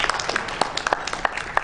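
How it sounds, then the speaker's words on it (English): Brief applause welcoming a panelist onto the stage at an AI summit, a patter of individual claps of moderate loudness from a smallish crowd. "A big round of applause"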